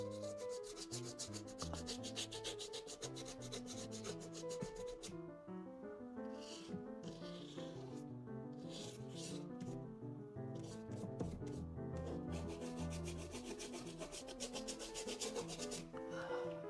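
A brush scrubbing oil paint onto canvas, quiet rapid rhythmic rasping strokes that continue in short bursts throughout.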